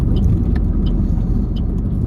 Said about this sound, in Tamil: இது ஹைவே, அதுலேயே அவ்வளோ டிராஃபிக்காக இருக்குது